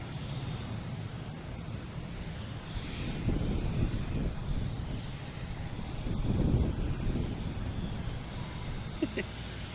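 A jet airplane at Boston Logan Airport rumbles at a distance, swelling and fading twice under wind buffeting the microphone, with no talk.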